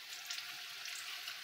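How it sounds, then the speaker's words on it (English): Pieces of pork belly frying in a hot pan, giving a steady, even sizzle heard up close and alone. "we're going to start frying this up"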